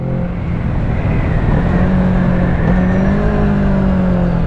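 Kawasaki Z650 motorcycle engine while riding through bends, a loud close drone whose pitch rises and holds steady under wind noise, with no talking.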